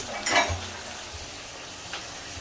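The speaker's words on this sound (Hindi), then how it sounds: "तो चिकन हमारा फ्राई हो चुका है" Chicken frying in a pan for an aloo gosht dish gives a low sizzle, broken by two brief scraping clatters of a spoon against the pan. No one speaks.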